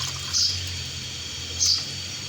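Water is poured glass by glass into a pot, two short splashing gushes about a second apart over a steady low background hum.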